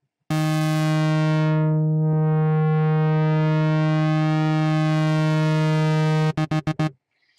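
Sustained synth lead from a Massive soft synth fed through a low pass 4 filter with resonance turned down, a loud steady buzzy tone that sweeps down and back up, then ends in a few quick choppy stabs.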